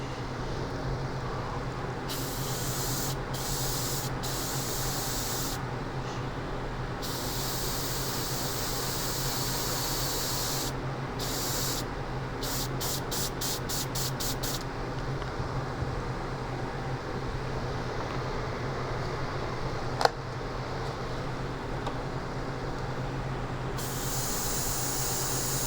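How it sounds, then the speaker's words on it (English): Gloss enamel or basecoat paint sprayed onto small Gundam OZ-06MS Leo 1/144 model kit parts, an airy hiss over a constant background drone, broken into several short bursts and a quick run of rapid pulses. "I kind of sprayed those all exactly the same way"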